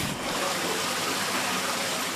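Floodwater in the East Yorkshire village of Burton gushing in a steady, dense rush that stays loud and unbroken throughout, with no voices over it.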